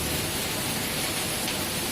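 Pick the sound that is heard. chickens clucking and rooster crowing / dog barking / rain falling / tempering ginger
rain falling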